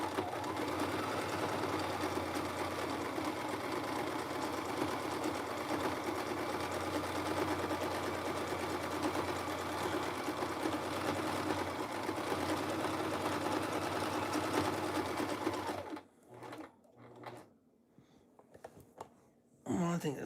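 Sewing machine stitching under foot-pedal control: a close, steady mechanical whir and rapid needle chatter for about fifteen seconds, then a stop followed by a few short, uneven bursts.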